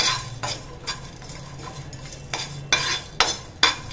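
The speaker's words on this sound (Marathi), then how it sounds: "गरम मसाला आहे ना जास्त पण भाजायचा नाही, फक्त थोडा गरम होईल ना एवढाच भाजून घ्यायचा आहे।" A pan of garam masala being dry roasted and stirred, with a steady scraping texture under repeated sharp clinks of a spoon against the metal pan, growing louder toward the end.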